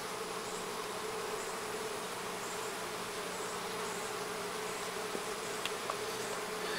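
Honey bees drone steadily around an open hive that may have been poisoned by pesticide, a dense, continuous buzz close by with faint ticks of individual bees passing, no voices.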